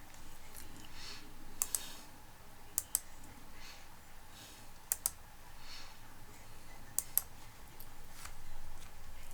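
Computer mouse clicking, crisp near clicks that come mostly in quick pairs at irregular intervals over a quiet background.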